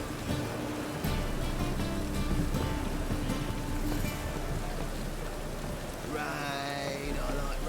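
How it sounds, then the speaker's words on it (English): Rain falls steadily in a Witcher video game, a loud continuous patter and hiss, with a brief rising tonal sound near the end. "Rain, I like rain."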